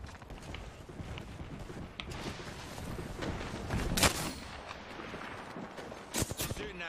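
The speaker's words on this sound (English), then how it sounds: "Launching me knuckle cluster." Apex Legends match with knuckle cluster launches and gunfire: a busy run of sharp game shots and impacts, peaking in a loud burst midway and a quick cluster of bangs near the end.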